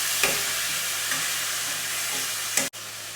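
Ginger-onion spice paste sizzles in a pan for potol chingri, a steady hiss with a few light spatula scrapes near the start and end before an abrupt cut, no voices.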